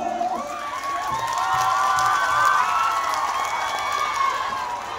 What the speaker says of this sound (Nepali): खोरिना गगोई सबैलाई जोरदार ताली बजाइदिनु होला